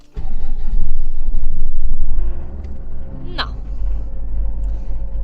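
A car engine is started and run to charge a second battery from the main one during a power shortage, a low rumble with a brief rising whine partway through, close by, while people talk over it.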